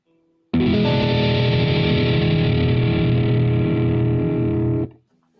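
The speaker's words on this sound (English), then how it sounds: "These two chords sound so dissonant because the distortion brings out the clashing harmonics" A loud distorted electric guitar chord rings out and sustains for about four seconds before being cut off abruptly.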